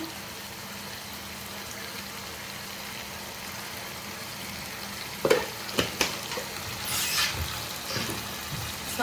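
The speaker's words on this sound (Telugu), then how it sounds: "కారం మొత్తం అన్ని ముక్కలకి కలిపే విధంగా కలిపేసుకున్నాము" Chicken curry pieces being stirred with chili powder in a pan, a soft steady sizzle that gives way to several sharp scraping and clanking strokes of the spoon, growing busier toward the end.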